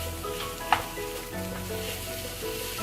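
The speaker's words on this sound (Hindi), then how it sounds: "अब इसको हम भून लेंगे।" Poppy seeds and almonds roasting in a hot pan give a steady, close sizzle with a brief sharp crackle near the start, and no talking.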